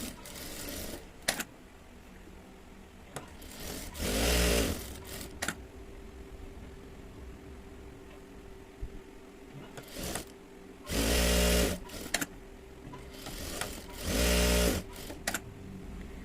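A domestic sewing machine stitches the side seams of a child's petticoat frill in several separate loud bursts of steady whirring, with quiet handling pauses between runs.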